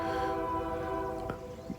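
A freight train passes at a distance, its horn holding a sustained chord-like blast before it fades away under quiet rumbling.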